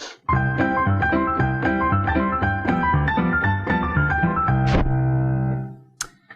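Piano plays Happy Birthday in a bouncy ragtime style, close and clear, with steady stride chords and melody for about four and a half seconds, then a final chord that rings and fades, followed by a light knock.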